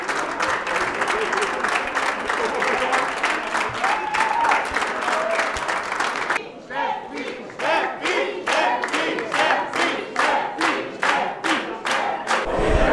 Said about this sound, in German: Jubel bei den Genossinnen und Genossen.